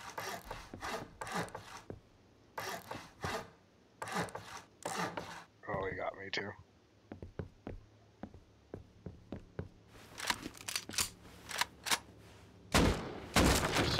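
Gunfire crackles through an online shooter game during a live stream, heard as bursts of rapid shots followed by a run of single spaced reports and then heavy volleys near the end, close and fairly loud.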